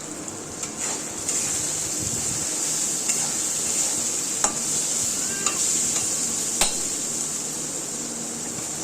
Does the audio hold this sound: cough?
no